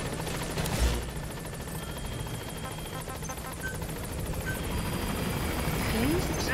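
A helicopter in a military stealth video game, Metal Gear Solid V, approaches a landing zone, its rotor chop thumping steadily and swelling louder as it nears, with a voice speaking over it.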